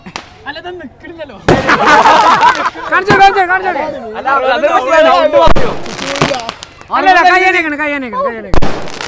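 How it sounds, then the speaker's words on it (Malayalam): Sharp firecracker bursts crack out a few times, each a sudden loud pop, while several people talk excitedly close by. "എന്താണ് ഈ ഒരു പടക്കം പൊട്ടലിനെ കുറിച്ച് താങ്കൾക്ക് എന്താ പറയല്ലേ?"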